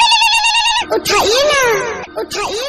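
A phone rings in the Indian Bike Driving 3D video game, a short electronic ringtone burst at the start followed by loud, warbling, sweeping synthetic tones.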